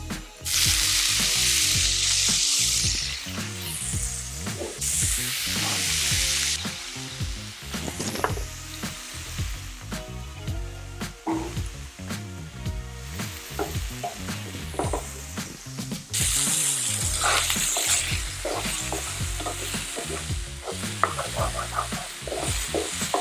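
Shrimp fry and sizzle in a pan with vegetables and cheese for enchilado tacos, a loud continuous hiss broken by repeated stirring scrapes and clatters throughout.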